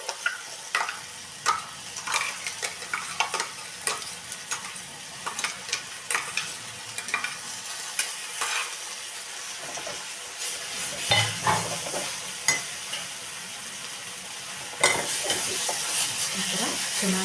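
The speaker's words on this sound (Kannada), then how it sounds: "ಇವಾಗ ನಾವು ಏನು ಮಿಕ್ಸ್ ಮಾಡ್ಕೊಂಡಿದ್ವಿ ಮಸಾಲಾನ ಅದನ್ನು ಹಾಕೋಬೇಕು" Masala paste stirred and frying in a pan for chavalikay gravy, a continuous hiss of sizzling broken by frequent scraping spoon strokes and clinks against the pan, close and fairly loud.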